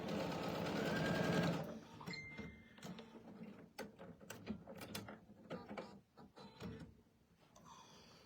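A sewing machine runs in a steady loud whir for the first second and a half while stitching a curved quilt seam, then gives way to scattered clicks and mechanical ticks as the fabric is handled.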